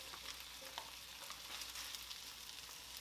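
Brussels sprouts frying in butter in a pan give a steady, close crackling sizzle that holds evenly for the whole stretch, with no voices.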